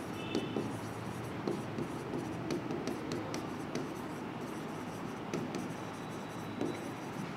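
Pen scratching across paper while filling in a bank reconciliation statement entry, a steady close scribble with occasional sharper strokes and no talk.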